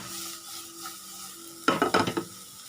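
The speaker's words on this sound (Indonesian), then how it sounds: "Pastikan untuk mengaduknya supaya tidak gosong." Garlic and onion sautéing in a pan sizzle softly, then a spatula scrapes and stirs in a burst of several quick, close, louder strokes near the end.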